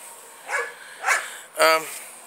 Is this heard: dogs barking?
yes